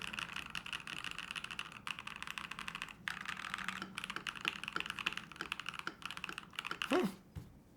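Rapid clicky keystrokes on an Ikki68 Aurora mechanical keyboard with Starry Night switches, steady and continuous at close range, with a brief louder clack near the end.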